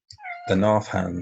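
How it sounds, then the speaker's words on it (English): A house cat lets out a short rising meow followed by a longer, wavering one, close by, overlapping someone talking. "hello cat, that's the cat joining in."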